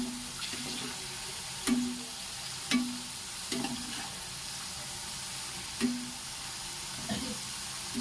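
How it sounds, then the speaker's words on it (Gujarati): Thin potato chips deep-fry in hot oil with a continuous bubbling sizzle, punctuated every second or so by soft clinks and stirs as the slices are turned. "આપણે ચિપ્સમાં ગોલ્ડન કલર આવી ના જાય ત્યાં સુધી આપણે એને આ રીતના તળી લેવાની છે"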